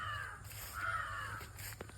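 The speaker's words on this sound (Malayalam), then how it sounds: "കാക്കകൾ" A faint crow caws once at a distance over quiet outdoor background noise beside the Kappad stream.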